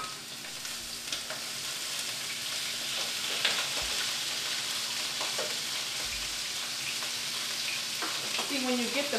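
Shrimp fry in hot oil with a steady, close sizzle and crackle, along with faint stirring and scraping sounds throughout.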